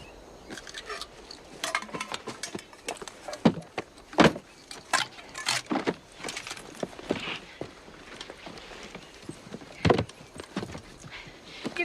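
Horses' hooves clatter in quick, uneven bursts, with sharp knocks and thuds scattered across the scene, some close and loud, others fading off.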